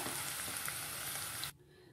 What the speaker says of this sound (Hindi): गोभी को भी हमें फ्राई करना है इसको भी हमें फ्राई करेंगे